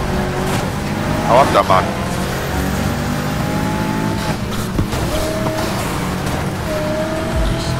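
Chevrolet Camaro Z28 engine revving and accelerating at a race start in Need for Speed Heat, loud and continuous with tire squeal and engine notes under someone speaking briefly.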